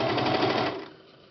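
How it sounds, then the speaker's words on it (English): A serger overlock machine stitches through a fitted cloth diaper, a close steady motor whir with rapid needle chatter for most of a second before winding down to a quiet fade. "So now it's just serging like a regular corner."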